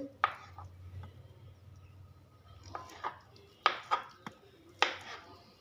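A knife chopping malai chaap into small pieces on a board, with a handful of sharp, spaced chops and knocks over faint background noise, no steady rhythm.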